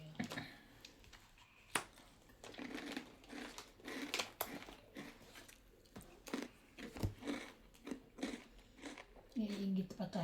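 Close, irregular crunching bites of someone chewing snack food during a card game, with chatter in the background.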